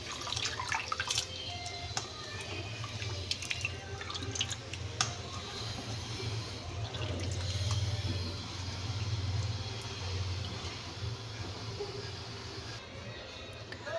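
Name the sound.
washing raw chicken pieces in water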